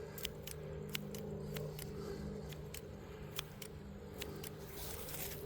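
Scissors snipping while a trapper clears brush around a trap set outdoors, about a dozen crisp, evenly spaced cuts over a low steady background hum.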